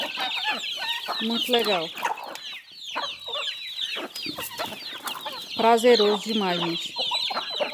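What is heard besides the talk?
chickens clucking while being fed corn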